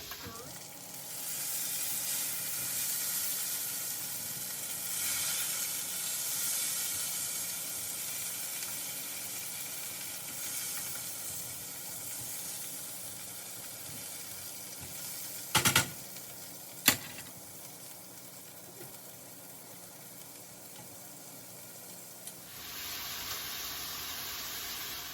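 Vegan Italian sausage sizzles in a pan with a steady crackling hiss throughout, broken by a couple of brief sharp knocks partway through.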